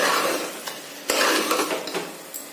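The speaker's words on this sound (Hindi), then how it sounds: "तो सब चीजों को अच्छे से मिक्स कर दिया है और इसको चलाते रहेंगे साथ ही साथ।" Chicken is stirred over a high flame in a pressure cooker, a spoon scraping and clinking against the metal pot over a steady sizzle of frying, with a few sharper knocks, close and fairly loud with no talking.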